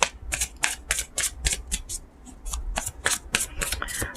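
Tarot cards being shuffled up close, a quick run of crisp riffling slaps and flutters in an uneven rhythm, loud and alone.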